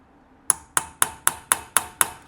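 A 2001 ZRX1200R motorcycle carburetor gets tapped to free a jet seated down inside the carb body: seven sharp, evenly spaced metallic taps, close and crisp, with nothing else heard.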